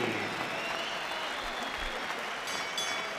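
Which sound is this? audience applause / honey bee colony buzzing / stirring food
audience applause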